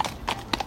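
Police horses' hooves clop on pavement outside a prefecture in Bobigny during a protest: several brisk, close hoofbeats in quick succession, with no talking over them.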